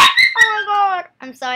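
A dog yips and whines in the background while a person speaks excitedly over it, with the animal's high, tonal cries overlapping the voice in short bursts.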